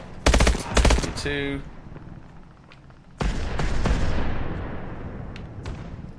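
Suppressing gunfire in Call of Duty Advanced Warfare: loud bursts of automatic fire open the clip, then a sustained, dense rattle of gunshots and blasts fills the latter half, with a brief spoken word between.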